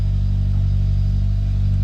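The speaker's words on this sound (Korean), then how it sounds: "배기 소리 좋죠? 웅웅 거려요." Exhaust note of a 2018 Hyundai Avante AD Sport at idle, a steady deep droning rumble held close and alone, without revving.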